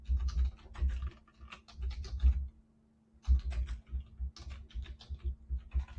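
Quiet, close computer keyboard typing in quick bursts of soft clicks with a brief pause in the middle, set against a faint electrical hum.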